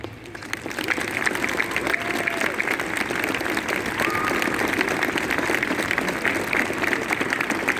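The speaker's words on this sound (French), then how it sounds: "Applaudissons très fort également les sapeurs-pompiers et les jeunes sapeurs-pompiers de la Loire." A large crowd at a Sainte Barbe ceremony in Saint-Étienne applauds the Loire firefighters and young firefighters, steady, sustained clapping that fills the space for several seconds, moderately loud and even throughout.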